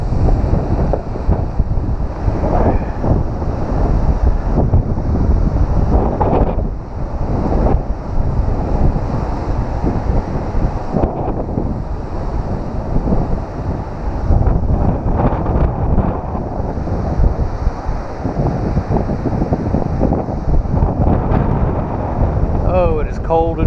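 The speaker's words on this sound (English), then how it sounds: "Oh, it is cold and windy." Strong cold wind buffets the microphone at an ocean lighthouse on the North Atlantic coast, a loud continuous roar with gusty surges and surf rumbling beneath, while a person speaks over it.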